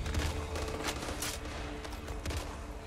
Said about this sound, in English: Wow, it's got a big hit. Slow to reload, so I'm guessing it's a sniper gun.